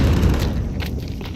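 Grenade blast in the CS2 shooter game: a loud, sustained rumbling boom with heavy low-end that fills the whole moment and slowly decays, alone with no talk.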